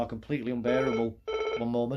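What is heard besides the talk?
telephone ringing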